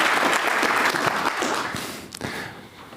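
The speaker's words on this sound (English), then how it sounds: "So give her a warm round of applause" An audience at a cyber security event in Amsterdam breaks into warm applause for a speaker, dense clapping from a crowd that holds steady and then slowly tapers off.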